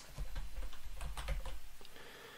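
A word is typed into a search box on a computer keyboard, a short run of quick, closely spaced key clicks, near and fairly soft, slowing toward the end, with no talking.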